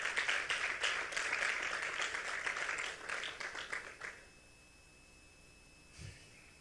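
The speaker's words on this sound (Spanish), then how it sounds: "Denle un aplauso fuerte al Señor" A church congregation gives loud, sustained applause for about four seconds, dense clapping that then stops abruptly, leaving near silence with one brief soft thump.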